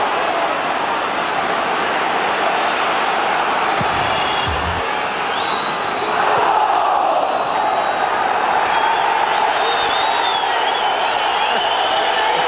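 A large football crowd at a 1997 Burnley v Bury Division Two match roars loudly and continuously, swelling into a louder burst of cheering partway through, with a sharp whistle heard briefly.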